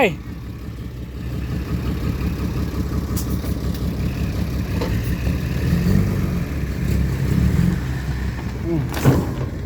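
A farm tractor engine runs with a steady low rumble and slight revving throughout, while people talk over it nearby.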